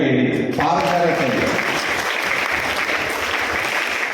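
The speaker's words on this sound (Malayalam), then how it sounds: "ആദ്യത്തേക്ക് ഒരു നല്ല കയ്യടി" Audience applause breaks out at a community career talent event held by a local union and pensioners' council, a dense steady clapping that follows a brief voice at the start and carries on loudly throughout.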